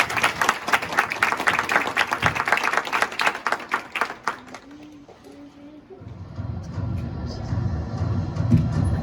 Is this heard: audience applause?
yes